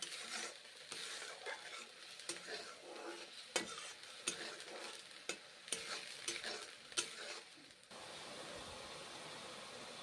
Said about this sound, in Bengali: এইভাবে কষে নিচ্ছি মশলা কাঁচা গন্ধ থাকবে না ঠিক ততক্ষণ কষে নেব মশলা